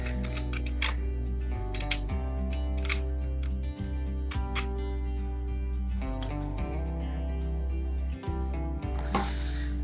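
An action camera quick release mount being taken off, with several crisp plastic clicks and snaps scattered across the clip over steady background music.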